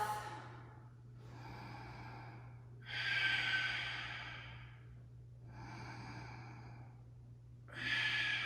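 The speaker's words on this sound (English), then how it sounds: "Deep breath." Slow, deep breaths during a vinyasa yoga flow, with long inhales and exhales close to the microphone over a low steady hum, about three full breath cycles.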